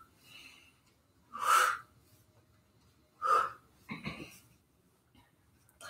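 Breathing during a bodyweight cross-training exercise at home, with two strong, forceful exhales about two seconds apart followed by a quicker rougher breath, close and clear over a quiet background.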